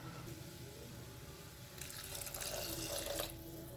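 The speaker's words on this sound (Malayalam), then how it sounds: "ഇനി ഇതിലേക്ക് നമുക്ക് ആവശ്യത്തിന് വെള്ളം ഒഴിച്ചു കൊടുക്കാം" Water is poured steadily into a pan of vegetable kurma, a soft continuous splashing that grows a little fuller midway, fairly quiet and with no talking.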